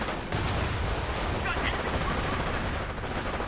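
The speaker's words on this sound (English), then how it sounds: "Rangers advancing, coming under fire, getting suppressed, but firing up" Riflemen firing in a WWII strategy game battle, dense overlapping small-arms gunfire forming a continuous loud crackle of shots.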